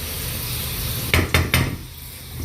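Okra frying in a pan in a home kitchen, with a steady sizzle throughout and three sharp clanks of a utensil against the pan near the middle, close and with no talk.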